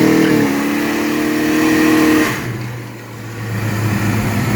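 A big-block Chevy car engine with MSD Atomic EFI fuel injection runs loud and close, revving with a rising then falling tone before settling into a lower, steady rumble.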